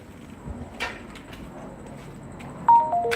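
A faint two-note electronic doorbell chime sounds near the end, descending like a ding-dong, over a quiet background hum with a few soft knocks.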